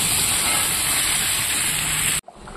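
Mutton braising in a pan sizzles with a steady, dense hiss that runs unbroken and close, then cuts off abruptly near the end.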